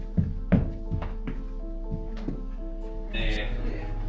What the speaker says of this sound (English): A lot of noises, a lot of thudding.